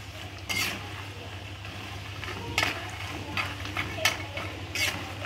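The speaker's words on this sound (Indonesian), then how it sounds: "kita goreng" Cheese sticks fry in hot oil, giving a steady soft sizzle with occasional scraping stirs and clinks from a utensil in the pan, close and moderately quiet, with no talking.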